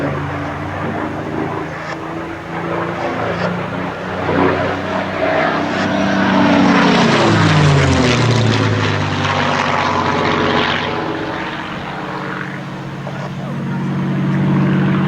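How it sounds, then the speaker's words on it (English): A Spitfire Mk IX propeller engine swells from a distant drone to a loud, close roar as it passes overhead, then fades, with people talking beneath it. "the noise and the sight of that elliptical wing is just the Spitfire"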